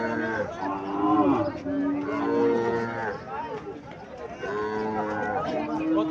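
Sahiwal cattle, including bull calves, moo repeatedly and loudly up close, long drawn-out lowing calls overlapping one another, with faint voices murmuring in the background.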